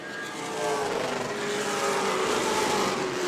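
Race cars at New Smyrna speedway roar past on the track, a loud sustained engine drone with shifting pitch as the pack runs by, no voices over it.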